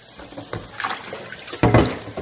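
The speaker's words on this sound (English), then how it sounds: "I'm going to start scrubbing" A cast iron pan is scrubbed with a chain scrubber and cast iron soap under running water, with wet swishing and rasping strokes building to a louder scrape near the end, close by and without voices.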